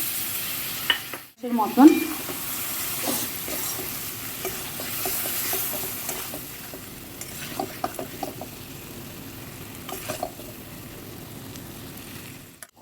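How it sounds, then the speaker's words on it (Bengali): Chicken liver curry sizzles and fries in a pan while being stirred, with a brief splash and hiss as a little water is added near the start, then steady sizzling with scattered scraping clicks and a few soft words. "একটু জল অ্যাড করছি"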